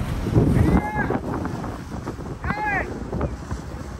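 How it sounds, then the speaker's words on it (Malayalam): A boat idles alongside a moving ship in the Suez Canal, with engine rumble, wind buffeting and water wash, two rising whistle-like calls, and voices talking in the background. "ഓൾറെഡി ഒരു ബോട്ട് അവിടെയുണ്ട്."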